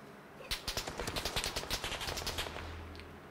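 Rapid bursts of automatic gunfire in the Xbox One video game PUBG, a quick rattling string of shots, fairly faint and distant, fading into a low hum at the end.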